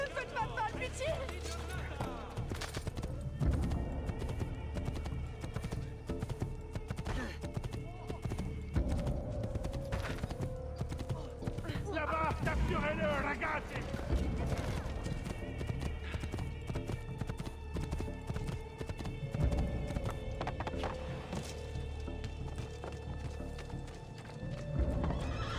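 A horse gallops through a town in the video game Assassin's Creed II, with steady clip-clop hoofbeats and occasional whinnies over a continuous game soundscape, while someone talks over it throughout.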